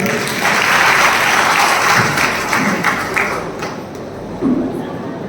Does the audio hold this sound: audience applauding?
yes